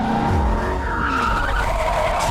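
A 2025 Corvette ZR1 spins out during drag racing, tires squealing loudly in a sustained, wavering skid with engine noise underneath.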